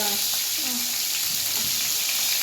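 Food frying in a pan on a medium flame while bagara rice and brinjal masala curry are cooked, giving a steady, close hiss and sizzle with a soft stirring scrape.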